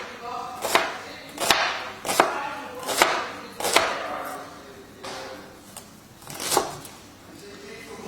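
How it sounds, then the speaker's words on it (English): A knife finely dicing an onion on a chopping board for tartiflette, giving a run of about eight crisp, close chops in an uneven rhythm, with a voice talking over them. "And then cutting across the grain the other way, making nice fine dicing."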